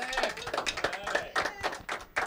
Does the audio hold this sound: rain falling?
no